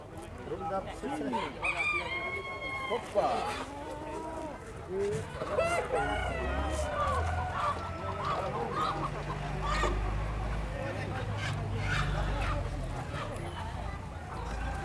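At a poultry and egg fair in Cachoeirinha, Pernambuco, roosters crow again and again and chickens cluck nearby amid crowd chatter, with people talking close by and a low rumble of background noise.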